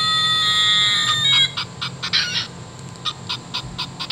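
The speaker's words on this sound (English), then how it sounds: "French hen" An Audubon plush bird toy plays a French hen call: a sustained squawking cluck followed by a run of short, rhythmic clucks, loud and close with no voices.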